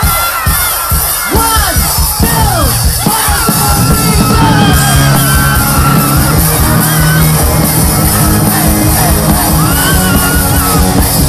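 A large concert crowd yells and cheers loudly and continuously at a live performance at Filinvest City Alabang, a dense, roaring wall of shouting voices.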